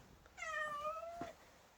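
A cat gives a single clear, drawn-out meow outdoors, fairly close but soft against a quiet background.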